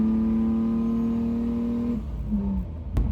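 A Super Coupe Thunderbird engine runs at a steady idle with a close, even hum, dropping slightly in pitch near the end before a sharp click.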